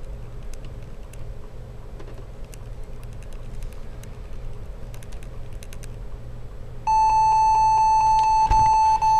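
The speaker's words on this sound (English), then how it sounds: "And you might hear some beeping." Dell Inspiron laptop during a factory restore, soft key clicks and taps at first, then a loud steady electronic beep repeating in a fast pulsing pattern near the end.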